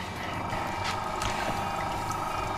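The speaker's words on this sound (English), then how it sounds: "So we'll turn this on, and we're going to have the motor coming towards me." A bench grinder motor runs steadily for chisel and plane-blade sharpening, producing a continuous low whirring hum with a faint higher whine, close and unbroken throughout.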